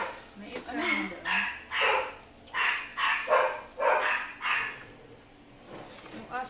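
A dog barks in a run of six or seven sharp, evenly spaced barks in a home kitchen, fairly close and loud, with people talking faintly around it.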